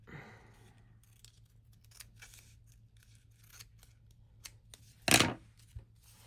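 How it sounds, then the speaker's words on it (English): Scissors trimming a glued paper doily, a series of soft close snips and small paper rustles, ending in one louder crisp cut, in a quiet room. "I'm going to cut with scissors and kind of trim that a little bit"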